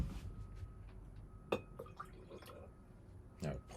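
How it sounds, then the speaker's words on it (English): Water being added to a mixture of ink for painting, heard as scattered close drips and small splashes in a quiet room, with faint handling noises between. "so I'm going to add a bunch more water."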